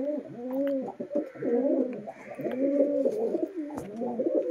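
Madras pigeons cooing steadily, overlapping throaty coos repeating in a continuous rhythm, close and clear with no talk.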